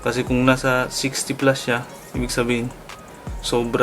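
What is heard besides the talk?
No everyday noise stands out behind the speech.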